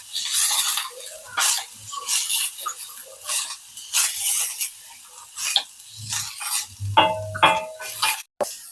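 Radish chutney ingredients with tamarind fry in a pan over a medium flame, a spoon scraping and stirring in repeated bursts with a soft sizzle, close and fairly loud, ending in a few clinks.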